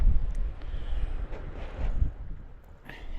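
Wind buffets an outdoor microphone at Widemouth Bay, Cornwall, a steady low rumble with gusts swelling and easing throughout, no voices.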